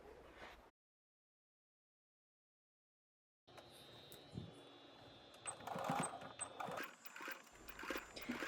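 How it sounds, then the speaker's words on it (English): A sewing machine stitches in the ditch along the yoke of a pinafore, a brief burst of running near the start, then a pause, then steadier close whirring with faint mechanical clatter. "continue stitching in the ditch all the way"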